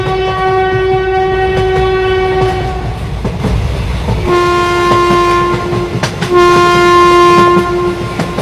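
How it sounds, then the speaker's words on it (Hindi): A train pulls into a station, its loud, close horn sounding in three long blasts with short gaps between them over a steady rumble and clatter of the wheels on the rails. "तभी इन लोगों को ट्रेन की आवाज सुनाई देती है।"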